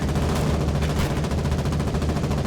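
Dense gunfire crackles in the online war game Foxhole, a relentless overlapping barrage of rifle and machine-gun shots that fills the whole stretch without pause.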